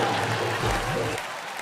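A comedy-show studio audience applauds, a brief wash of clapping under and alongside the host's speech.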